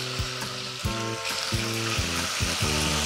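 Mint leaves and coriander fry in hot oil for vegetable biryani, a dense, loud sizzle that continues throughout while a utensil scrapes and clanks against the pan in quick repeated strokes.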